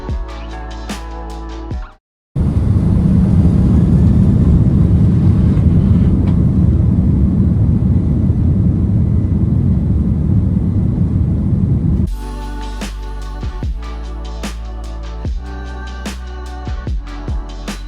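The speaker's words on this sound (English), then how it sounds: "we were soon on our way taxiing to the runway" Wide-body airliner taxiing toward the runway, heard from inside the cabin as a loud, steady engine rumble that holds for about ten seconds before dropping to a quieter hum with intermittent knocks and clicks.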